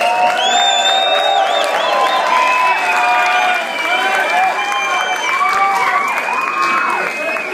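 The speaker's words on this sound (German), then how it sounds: "Applaus." A live concert crowd applauding and cheering, dense clapping with shouts and whoops over it, loud and sustained throughout.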